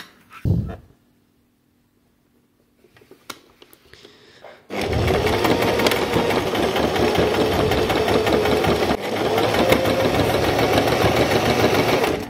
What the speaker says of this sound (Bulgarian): Щипвам си и започвам да шия.